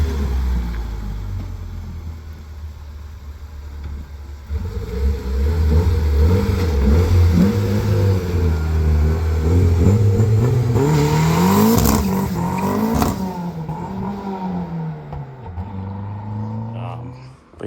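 A Chevy LUV with an LS V8 swap rumbles and revs close by, building to a loud, rising roar in the middle before dropping back to a throaty idle, with voices talking over it.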